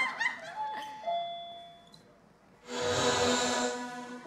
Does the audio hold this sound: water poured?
no